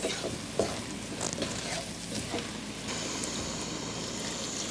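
Fasolia beda, an Arabic bean dish, being stirred together with its ingredients in a pan, giving a soft continuous sizzle and scraping with faint clinks, fairly quiet and without talk.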